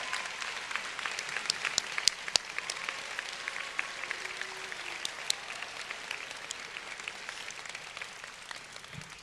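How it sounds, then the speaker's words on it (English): A crowd applauds at a high school graduation ceremony, sustained clapping from many hands over nine seconds with scattered sharp claps and occasional cheers, heard from within a large audience. "Now give yourselves a round of applause!"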